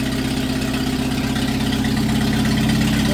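A steady, loud 1953 Allis-Chalmers tractor engine drones with a chugging low-frequency pulse as it is throttled up, rising slightly in pitch and intensity toward the end.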